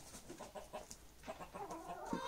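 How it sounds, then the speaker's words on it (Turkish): Hens on a village farm cluck softly in a quick, irregular patter, fairly close and low in level, with no voices over them. "Tavuklara yem verdiniz mi?"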